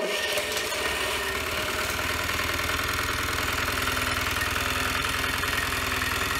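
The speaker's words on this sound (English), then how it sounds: "Here's a clip starting the engine without a working solenoid." A Lombardini diesel engine on an old water pump, started without a working solenoid, turns over and settles into a loud, close, steady chugging idle with a rapid rhythmic knock that continues without pause.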